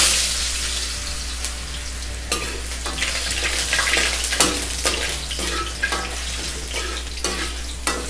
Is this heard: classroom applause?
no